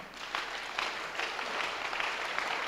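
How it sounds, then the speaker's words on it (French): A church congregation applauds to acclaim the Lord, a steady wash of many hands clapping at moderate distance with slightly rhythmic surges, no speech over it. "On acclame d'abord le Seigneur."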